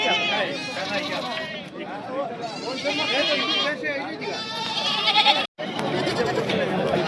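Goats bleat repeatedly and loudly at the Begampur goat and buck market, several animals calling over one another through a continuous babble of nearby voices and crowd talk.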